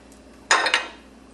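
Hummus ingredients such as garbanzo beans and tahini paste being added to a bowl: two quick, close clinks of utensils against dishes in an otherwise quiet room, with no talking.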